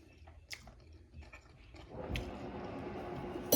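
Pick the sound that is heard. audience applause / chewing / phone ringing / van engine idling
chewing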